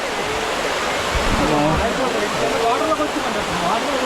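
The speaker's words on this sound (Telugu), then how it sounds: "చూసారు కదా కిందన వాటర్ ఎలా ఫ్లోటింగ్ అవుతుందో చాలా హైట్ నుంచి పడుతుంది ఇక్కడ కూడాను" Katiki waterfall in Araku valley, water dropping from a great height in three steps, roars as a steady, loud broadband rush that fills the whole clip without pause.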